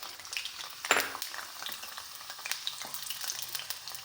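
Cut amla (Indian gooseberry) pieces dropped into hot oil for homemade hair oil, giving a steady close sizzle and crackle with a sharp burst of spattering about a second in, then continuing bubbly frying.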